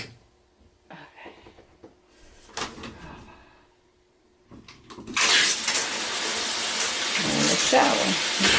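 RV shower turned on while dewinterizing, a few quiet clunks and brief spurts, then a sudden steady rush of running water that stays loud to the end.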